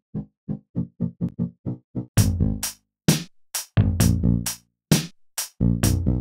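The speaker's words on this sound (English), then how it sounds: "Now time for some bass." A simple chiptune-style bass line in Mario Paint plays short, evenly spaced plucked notes, then continues over punchy electronic drum hits in a bouncy loop.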